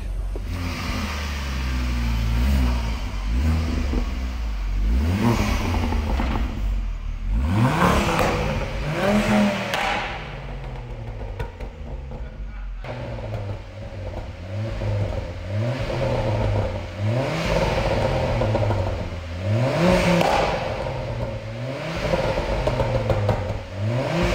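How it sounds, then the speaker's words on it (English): A Ford Focus ST MK2 engine revs repeatedly while warm, climbing and falling in steady cycles that are loud and close, and the exhaust crackles and pops as each rev drops back. "I've been keeping the car warm, popping some bangs that you've just seen"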